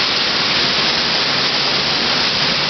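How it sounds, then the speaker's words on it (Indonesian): Heavy rain driven by very strong wind in the city of Blitar, a dense, steady roar of rain and gusts filling the scene loudly and continuously, with no voices. "Deres banget, men."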